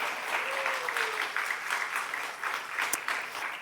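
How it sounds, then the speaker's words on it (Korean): Audience applause for professors at a university chapel service, a steady wash of many hands clapping in a large hall for a few seconds. "우리 교수님들 저 지쳐서 여러분 박수 한번 합시다."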